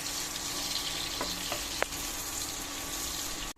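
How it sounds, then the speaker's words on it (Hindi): Sliced onions fry in about a cup of oil for a Moradabadi chicken dum biryani, giving a soft, steady sizzle with a few faint stirring clicks, heard alone and fairly quiet. "अब मैं इसमें अनियन डाल दूंगी अपनी। अनियन को हम हल्का सा ब्राउन कर लेते हैं पहले।"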